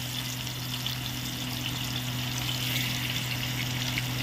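Tilapia fish frying in hot oil in a pan for a Bengali fish fry, giving a steady, continuous sizzle with a low hum underneath, constant and close throughout with no talking.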